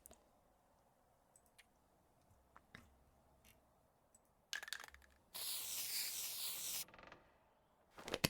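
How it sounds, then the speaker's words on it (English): Spray painting in The Long Dark video game: one loud, bright, sustained hiss from a spray can lasting about a second and a half, preceded by faint scattered clicks and rustles and followed by a few sharp taps. "I haven't used spray paint in so long."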